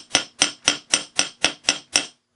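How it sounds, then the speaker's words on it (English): A hammer taps a silver wire loop on a jeweler's anvil eight times in a steady, even rhythm, each strike a bright, close metallic clink that rings briefly, with no talking. "I like to take that and hammer it a bit to stiffen it up."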